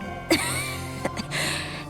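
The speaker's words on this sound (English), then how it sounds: "Miss Wangjun, you're coughing harder than you were before" A female game character in Infinity Nikki coughs: a sharp cough burst, then a second shorter one and a faint third, over steady background music.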